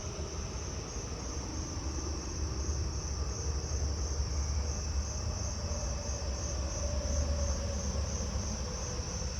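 Crickets chirp at night outdoors in a dense, continuous high-pitched drone, steady and unbroken throughout, with a soft low rumble underneath and no voices.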